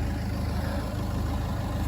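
A Honda motorcycle engine idles steadily at close range, a low, even throb with a regular pulsing beat and no voices over it, running warm.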